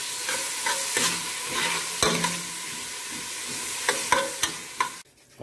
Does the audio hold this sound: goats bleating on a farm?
no